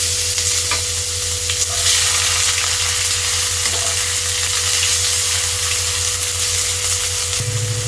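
Chopped tomato fries in oil in a pan just emptied of fish, with bay leaves and whole cumin added. A loud, continuous close sizzle runs through it, with occasional faint stirring scrapes and a low steady hum underneath.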